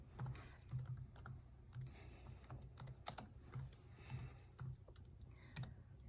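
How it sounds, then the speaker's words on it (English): Keys clacking on a computer keyboard while an email subject is typed, a quiet steady run of soft taps with short pauses and no voices. "you're going to type for subject, you're going to type the registration."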